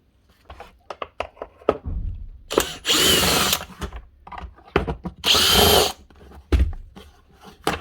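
A power screwdriver runs in two sustained whirring bursts as it unscrews the screws on the cover of a Bosch GAS 1200L vacuum. Close-up handling knocks and clicks come between the bursts, and no one speaks.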